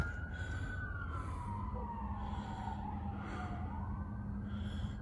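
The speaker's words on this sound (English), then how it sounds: "these emergency vehicles, they make a lot of noise" A wailing emergency siren sweeps up and down continuously over steady traffic rumble, loud and fairly close throughout.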